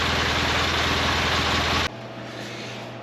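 A 2012 Polaris Ranger utility vehicle engine idles loudly with a rattling, chattering tone from its clutches, then cuts off abruptly, leaving a faint hum.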